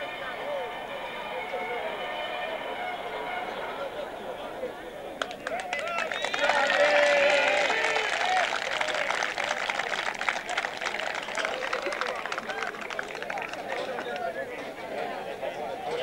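Spectators applaud at an Italian amateur rowing championship on Lago di Pusiano, a burst of clapping that starts suddenly midway and carries on steadily, moderately close, with a voice talking before and over it.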